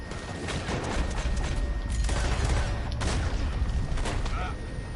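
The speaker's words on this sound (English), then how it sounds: "Who's shooting at me now?" Scattered gunfire in a Red Dead Redemption 2 shootout near a building, with several sharp shots popping over a dense, busy game soundscape at moderate distance.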